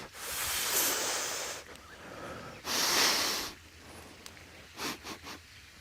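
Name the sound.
deep inhaling breath during yoga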